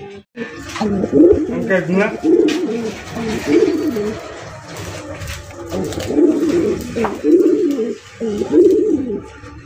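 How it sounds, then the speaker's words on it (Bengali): Bull Head Archangel pigeons cooing in a loft, repeated low rolling coos from several birds close by, nearly continuous with brief gaps and occasional faint clatter in the background. "বুল হেড আর্চেঞ্জেলের কবুতরের কালেকশন দেখতেই পাচ্ছেন"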